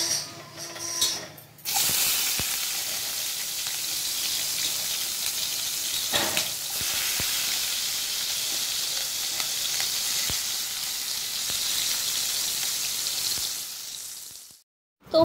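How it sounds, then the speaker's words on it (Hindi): Cumin and chopped onion fry in hot oil in a home Indian kitchen, giving a steady loud sizzle with faint stirring scrapes, running continuously for about thirteen seconds before stopping abruptly. "तो प्याज मेरा यहाँ पे हल्का भून गया है"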